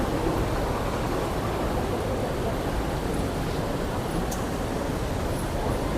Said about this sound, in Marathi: तर इकडनं असं पाण्याचा आवाज येतोय.